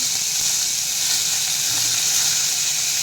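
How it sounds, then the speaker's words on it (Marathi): Tomato, ginger, garlic, chilli and coriander sauté in a hot pan with a steady, close sizzling hiss that holds evenly throughout. "टोमॅटो आलं लसूण मिरची कोथिंबीर हे सगळं परतून घ्यायचं आहे"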